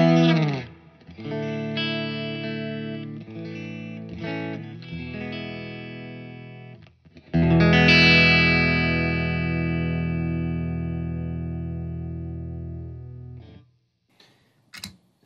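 Distorted electric guitar rings out chords through an effects chain with the compressor pedal off. It plays a strummed passage, then one big chord that slowly decays, followed by a few faint clicks.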